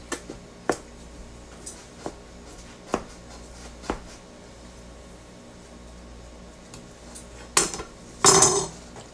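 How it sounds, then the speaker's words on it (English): A knife taps on a cutting board in sparse, irregular chops, followed near the end by a couple of louder clattering knocks. "chopping it up kind of fine where I can just spread it through."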